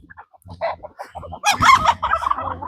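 Chickens on a farm cluck and squawk in short close bursts, several birds overlapping, with a louder flurry midway.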